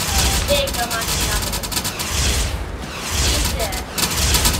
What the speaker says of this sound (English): also you can use the cannon to fire at other boats